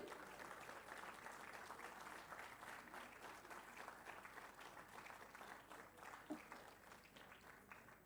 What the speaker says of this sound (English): So special clapping for this little angel.